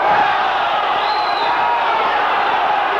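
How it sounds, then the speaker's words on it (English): Football crowd at Preston North End versus Burnley appealing for a corner, a dense, loud roar of many voices sustained evenly for a few seconds. "The crowd appealing for a corner."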